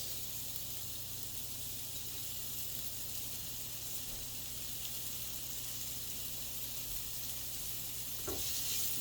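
Red onions sizzle steadily in a hot pan, a continuous close hiss of frying with a brief scrape near the end.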